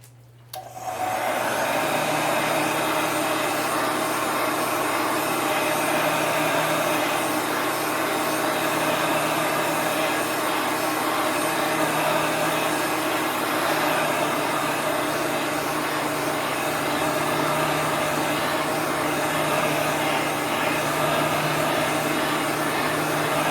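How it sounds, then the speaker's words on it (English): A heat gun dries chalk paste on a tea towel, switching on after a brief moment and then roaring with a loud, steady blowing hum close by, unbroken and free of speech. "And I'm going to use a heat gun"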